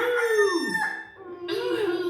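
A storyteller's voice mimics a rooster crowing, a single drawn-out cock-a-doodle-doo that rises, dips and swells again, loud and close within a children's story.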